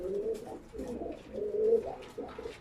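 Pigeons in an attic loft give a run of soft, low cooing calls, close and fairly quiet, repeating in short phrases with no talk.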